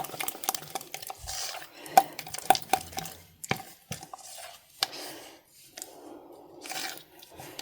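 A spatula or utensil scrapes and knocks against the sides of a mixing bowl in irregular bursts, with sharp clinks and soft swishing strokes separated by short pauses.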